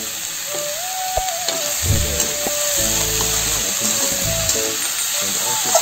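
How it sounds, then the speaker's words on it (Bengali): Chopped snake gourd fries in a pan with green chilli, turmeric and salt, giving a steady close sizzle throughout, with a few stirring scrapes and knocks against the pan. "চিচিঙ্গাটা ভাজা হয়ে গেছে, আমি এতে কিছু উঠাই রাখবো"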